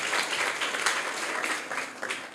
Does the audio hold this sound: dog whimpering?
no